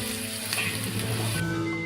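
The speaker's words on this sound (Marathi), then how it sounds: "लाल म्हणजे गुलाबी होईपर्यंत आपल्याला हा कांदा व्यवस्थित परतून घ्यायचा आहे." Chopped onion sizzles steadily in hot oil in a pan, browning for a Maharashtrian leafy-vegetable dish. Close, continuous frying crackle with faint stirring scrapes and no voices.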